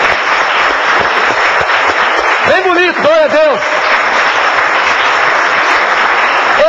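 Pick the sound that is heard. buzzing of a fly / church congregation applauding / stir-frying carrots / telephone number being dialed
church congregation applauding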